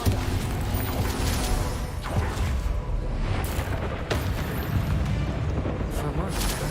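A Bombarda explosion spell in the Hogwarts Legacy video game gives a loud, sustained roaring blast rumble that fills the whole stretch, with dense game noise and a voice mixed in.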